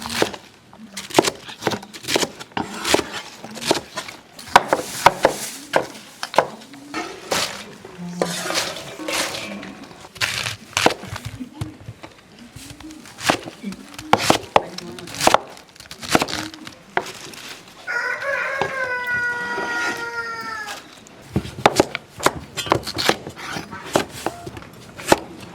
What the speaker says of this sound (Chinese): 甘蓝切成块儿